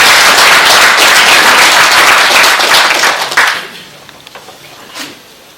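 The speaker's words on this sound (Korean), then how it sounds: "박수로 맞아주시기 바랍니다." A forum audience welcomes a speaker with loud, dense applause that runs steadily for a few seconds, then tapers to scattered claps and quiet room noise.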